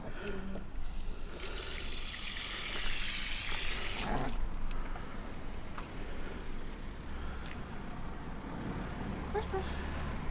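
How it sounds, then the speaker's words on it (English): Water run from a hose or container through newly installed house gutters, a steady broadband splashing and trickling flow that surges loudest in the first few seconds and then continues more evenly, with faint talk underneath. "I'm just going to quickly do a little test with some water and just make sure that it is actually flowing down"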